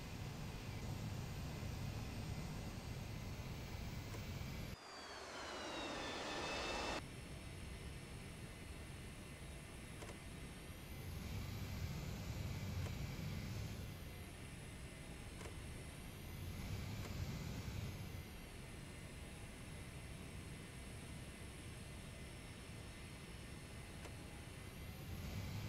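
A Saab AJS37 Viggen jet engine taxiing in a flight simulator, a steady loud broadband roar with a high whine that rises and falls as throttle changes, with a brief sharp dropout partway through.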